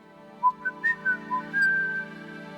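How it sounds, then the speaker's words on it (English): Someone whistles a sing-song six-note melody, the notes rising and falling in a quick, clear phrase that ends on a held tone, fairly faint and alone. "John whistled the sing-song 6-note melody"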